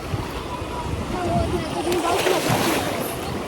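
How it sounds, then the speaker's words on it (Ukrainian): Sea waves wash steadily against a shore as a cruise ship stands offshore, with broadband surf and wind noise filling the whole stretch and swelling slightly midway. "Так, дивіться, які хвилі."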